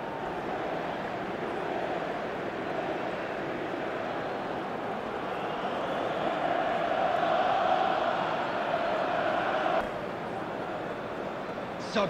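A stadium crowd cheers in an eFootball 2025 match between Inter Milan and AS Roma, a steady wall of roaring noise throughout that swells slightly in the middle and stops abruptly near the end.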